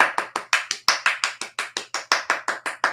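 A single person claps steadily and briskly, about five claps per second, close and dry, making a short round of applause with no talking over it.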